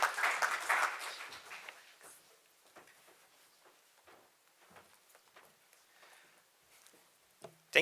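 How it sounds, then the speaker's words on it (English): Audience applause at a medical conference welcomes a speaker to the stage, loud at the start and dying away over the first two seconds, followed by a quiet room with scattered faint claps and small sounds. "give him a big round of applause and welcome onto the stage"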